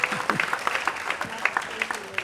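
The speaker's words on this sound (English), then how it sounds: "Let's have a round of applause for our flag." Brief applause from an audience at a 50th reunion seminar for a class of 1972 doctors, scattered claps of moderate volume lasting a couple of seconds.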